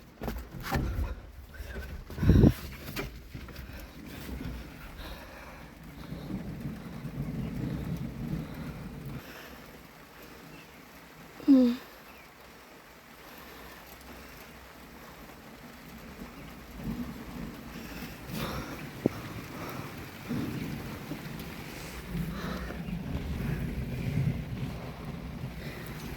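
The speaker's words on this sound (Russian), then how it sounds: "Дождик." A July thunderstorm in the Ivanovo region, with steady rain and low rumbling thunder rolling through a long stretch. A few sharp knocks break in, and wind buffets the microphone.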